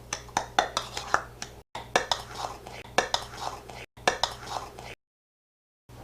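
Dry cobbler topping ingredients with salt being stirred in a bowl, a run of close, rhythmic scraping taps of a utensil against the bowl in bursts, then a short silence.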